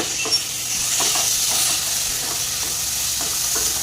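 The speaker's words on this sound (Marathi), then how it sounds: "याला टोमॅटोला आपण 2 मिनिटं पसरून घेऊया" Tomatoes sizzle on a hot tava for Mumbai-style pulav with green chillies, a steady close frying hiss broken by repeated scraping strokes of a spatula stirring.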